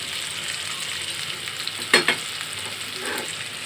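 Marinated mola fish frying in a pan, a steady close sizzle throughout with a brief clatter of stirring or handling partway through.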